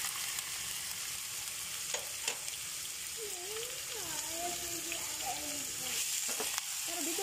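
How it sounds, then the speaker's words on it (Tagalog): Onion dropped into hot oil for Arabic sambousa filling, a steady close sizzle and crackle with a few scraping stirs under it, no talk. "ilalagay ko na yung onion"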